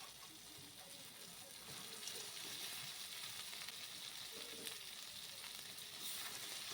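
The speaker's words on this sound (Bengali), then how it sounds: "এবার দিয়ে দেব কাঁকড়াগুলো।" Crabs in hot spiced oil give a faint, steady sizzle and hiss with occasional light stirring sounds, low in level and continuous throughout.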